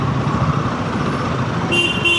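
Morning road traffic heard while riding, with a broad engine and road rumble and a sustained vehicle horn sounding in the last half second.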